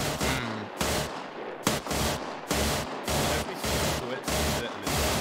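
A Mark 19 grenade launcher fires rapidly in a video game, with loud, heavy shots coming in a steady rhythm of about eight evenly spaced bursts, close and booming.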